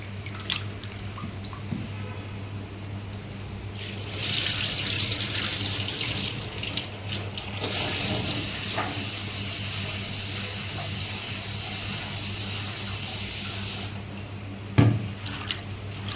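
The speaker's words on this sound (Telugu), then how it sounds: "ఇది ఫ్రెష్గా వాటర్ తోటి కడిగామండి" Idli ingredients are washed under a running kitchen tap, a steady close gush of water with swells of splashing and sloshing from hands working in the stream, ending with a brief clatter.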